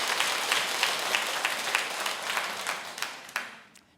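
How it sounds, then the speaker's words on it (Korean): An audience at a lecture applauds together, a steady mass of clapping at moderate loudness that tapers off and fades out near the end. "박수 한번 쳐주시기 바랍니다"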